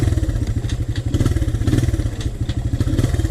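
Honda TRX 125 ATV engine idling close by, a steady rapid low putter with rhythmic thumping pulses and light clatter, loud and continuous with no talk.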